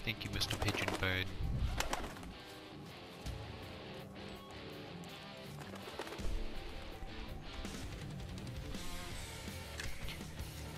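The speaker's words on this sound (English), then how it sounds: "Thank you, Mr. Pigeon Bird." A pigeon coos in soft repeated calls amid busy background music and occasional crashing effects, loudest at the start and picking up again midway.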